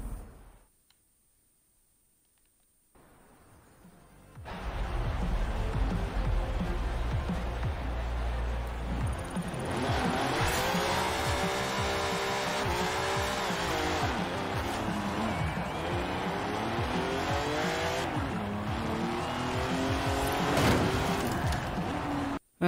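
A car engine revs and shifts while driving in Forza Horizon 4, loud and continuous after a quiet start, with rising and falling pitch sweeps as it accelerates through gears.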